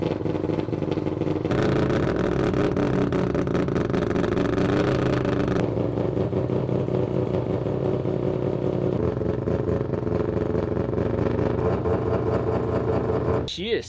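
Three-rotor rotary engine car running on a dyno at low boost, a loud, raspy, steady drone with shifting pitch and some clatter, with someone speaking over it.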